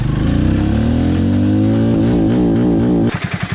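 A Hero Mavrick 440 motorcycle revs hard through the gears, its loud engine note climbing in pitch, wavering, then cutting off sharply near the end with a few pulsing exhaust bursts.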